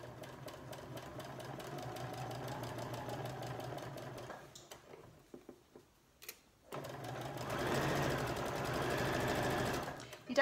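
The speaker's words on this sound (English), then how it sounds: "we're going to sew all the way along that seam, taking the pins out as you go along" A sewing machine stitches a seam on a fabric cushion cover with a close, steady, rapid mechanical whir. It stops for a brief pause with a few clicks, then resumes running at a slightly louder level.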